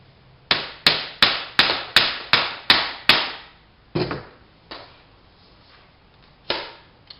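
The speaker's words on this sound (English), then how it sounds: "And again, pound in the side that has not been sanded." A connector is pounded into a hoop section: eight evenly spaced, sharp hammer blows in quick rhythm, then a few slower, softer taps, close and clear.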